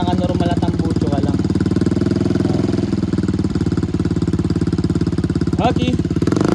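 A motorcycle fitted with a Yoshimura Alpha muffler idles and revs, giving a steady throbbing exhaust pulse that carries on at close range with a few brief higher bursts.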